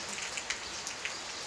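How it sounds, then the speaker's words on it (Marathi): Heavy monsoon rain pours down steadily in a village, a dense continuous hiss with scattered sharper drops pattering on nearby surfaces. "बघा खूप जास्त पाऊस आला आहे इथं."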